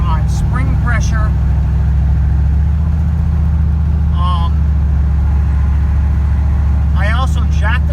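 An LSX engine in a GMC Canyon truck, running on wastegate spring pressure with the boost controller off, holds a loud, steady rumbling idle while someone talks over it.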